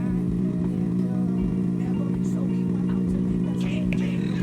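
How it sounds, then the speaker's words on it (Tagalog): A Honda CBR650R motorcycle engine warms up at a steady idle, giving a constant low hum with faint clatter that holds evenly for the whole stretch, close by. "Basta ang mahalaga ay painitin ng magandang makina para makaikot ng magandang langis."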